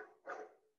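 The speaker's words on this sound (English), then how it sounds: "Sorry if you hear a dog barking." A single dog bark, muffled and a bit distant, rising briefly before trailing off into quiet.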